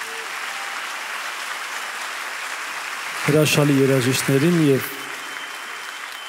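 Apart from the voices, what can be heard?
audience applauding the musicians at a live concert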